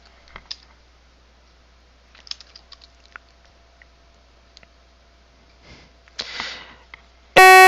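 Sparse clicks and taps of a computer keyboard typing a Linux command, a few scattered keystrokes in short bursts with quiet gaps between, close to the microphone.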